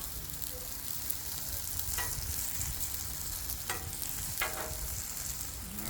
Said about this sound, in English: We're finally getting that nice cooking sizzle that you love to hear on your Blackstone.